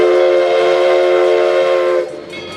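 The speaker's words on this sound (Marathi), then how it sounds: "धुरांच्या रेषा हवेत काढणारी झुकझुक गाडी जेव्हा घाटांमधून वळणदार वळणं घेते" Steam train sounding a loud sustained whistle on a winding ghat route, holding steady for about two seconds before cutting off into a quieter rumble.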